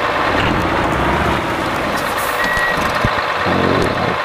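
A truck in the MudRunner game backs up while loading logs: a loud, steady series of reversing beeps rings out over a constant engine drone, close and unbroken.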